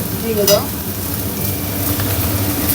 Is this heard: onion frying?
yes